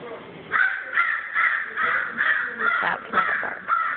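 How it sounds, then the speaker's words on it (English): A pet crow gives a string of about eight harsh, raspy caws in a fairly steady rhythm, loud and close, each call short and grating, sounding somewhat like a bark. "That is my crow barking."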